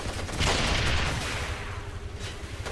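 Heavy gunfire and explosive blasts from vehicles in Ghost Recon Advanced Warfighter, a dense sustained barrage with booming low rumble, loud and continuous throughout.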